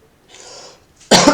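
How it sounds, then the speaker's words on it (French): A single person coughs once, loud and close, after a short breathy intake, during throat and jaw gland stimulation. "Voilà, ça me fait tousser."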